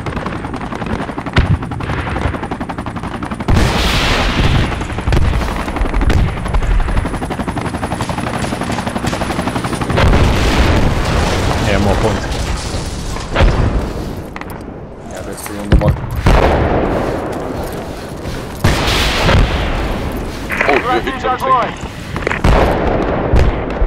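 Mortar explosions and bursts of gunfire in a military video game mix with the thump of a helicopter, loud and continuous with repeated blasts and rattling shots, while players talk over the top.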